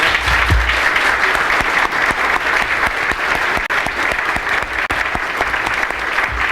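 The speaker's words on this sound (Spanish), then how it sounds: "Démosle un fuerte aplauso, por favor" An audience at a legislative transparency conference applauds a speaker, loud dense clapping that stays steady for several seconds, with a few sharper individual claps standing out near the front.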